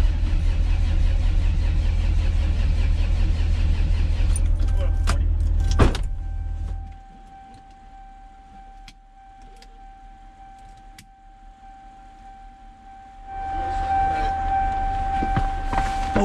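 Car engine cranking over during a fuel-pressure check on a junkyard car, a loud sustained low rumble that cuts off abruptly, then a quieter stretch with a steady tone before the engine noise returns.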